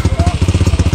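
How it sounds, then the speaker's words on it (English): A motorcycle engine runs loud and close with a fast, even pulsing beat and a throaty rumble as it is revved at a rural countryside spot. "Rev the bike, man. Rev the bike."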